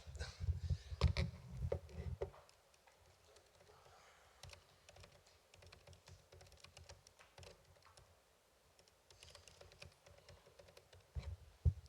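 Keys on a computer keyboard tap in quick, uneven bursts close by, fairly soft, with a few louder handling bumps at the start and end.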